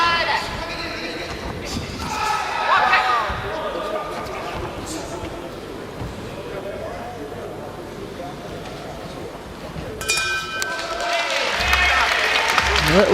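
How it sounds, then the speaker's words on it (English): A crowd at a World Boxing Cup finals bout in Sheffield gives a light cheer and applause, a diffuse murmur under commentators' talk, with a fresh burst of clapping near the end. "A little cheer."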